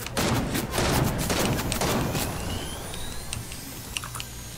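Rapid gunfire from a video game shootout over a hill, dense bursts of shots loudest in the first two seconds, then thinning to scattered cracks, with no talking.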